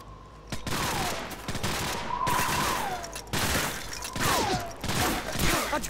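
Call of Duty 4: Modern Warfare firefight, with sustained bursts of gunfire and sharp cracks rolling continuously, some whizzing tones over the top, and dense battle noise throughout.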